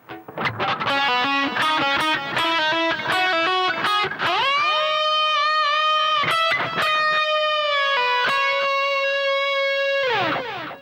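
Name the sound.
electric guitar with distortion playing E Lydian solo phrase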